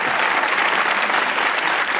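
A studio audience bursts into loud, dense applause that holds at an even level for the whole brief stretch, a thick wash of clapping with no voices on top.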